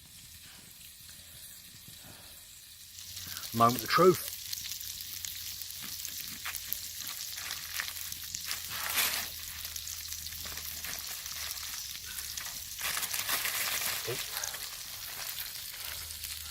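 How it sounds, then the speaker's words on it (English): Soft crackling sizzle of bannock bread cooking over campfire embers, steady and fairly quiet, with a few louder pops and a short spoken remark early on. "Love the sound of food sizzling on the embers, mate."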